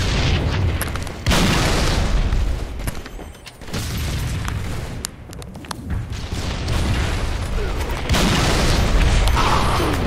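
Rocket explosions in the Halo 3 video game, a run of loud, booming blasts with rumbling debris filling most of the stretch, heaviest at the start and again near the end, with no talk over them.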